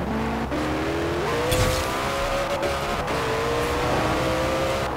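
A Koenigsegg One in Forza Horizon 4 driving fast, its engine droning loud and continuous with rising and shifting pitch, tires squealing over it, close and without talk.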